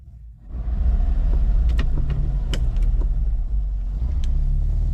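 A Lancia Aurelia B20 is started with a turn-and-push key ignition; its engine catches after a brief crank and settles into a steady, close idle rumble.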